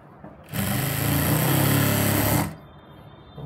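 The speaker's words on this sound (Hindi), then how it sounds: "यहाँ पर से सिलाई शुरू करेंगे" A sewing machine stitching the hem of a readymade palazzo, a single continuous run of about two seconds, steady and close, starting and stopping abruptly with quiet before and after.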